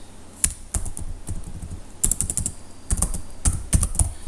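Fingers type on a computer keyboard while editing a network simulation script, a close, irregular patter of key clicks in quick clusters with brief pauses between, heard alone without speech.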